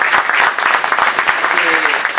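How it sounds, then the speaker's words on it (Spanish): Audience applause for the local press at a live event: a steady, dense wash of many hands clapping at close range, with a voice briefly audible over it near the end. "también un aplauso para ellos que siempre están acompañando."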